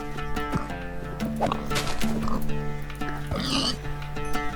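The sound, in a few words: pigs oinking in Minecraft video game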